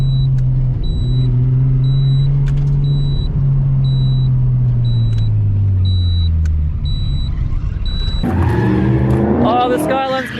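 A Nissan Skyline drifting at a track event as its worn old tyres give out: a loud, sustained engine drone with shifting pitch and a steady beeping, then tyre squeal and rising revs near the end.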